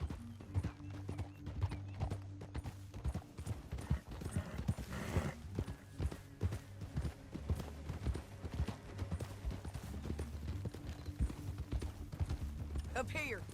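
Steady clip-clop of horse hooves plods along throughout in Red Dead Redemption 2, with a low droning hum and occasional voices talking over it.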